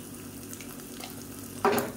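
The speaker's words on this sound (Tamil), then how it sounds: "பூண்டு வந்து நல்லா இப்படியே கருகி வரணும்." Garlic, curry leaves and dried chillies fry in oil with a soft, steady sizzle and crackle, then a brief louder burst of spitting near the end.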